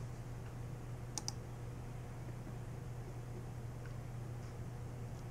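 Two quick, faint clicks of a computer mouse come just after the start, over a steady low hum while someone works through a course website at a desk.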